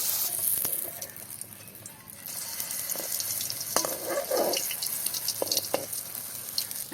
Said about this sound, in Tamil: நல்லெண்ணெயில் தான் சுட வேணும் இந்த ரொட்டி